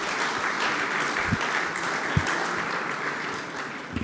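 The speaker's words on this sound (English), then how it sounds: "A big round of applause." Audience applause at a programming contest closing ceremony, a steady crowd clapping from start to finish with a few sharper claps standing out near the microphone.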